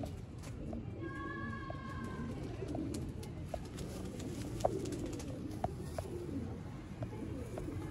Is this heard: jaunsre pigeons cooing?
yes